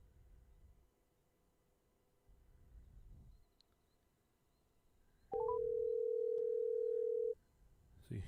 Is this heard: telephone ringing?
yes